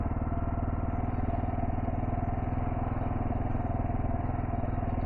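A Kawasaki KLR650 dual sport motorcycle on Shinko 244 tires runs continuously, a steady chugging single-cylinder engine drone with dense rhythmic pulses and wind rush, no pauses.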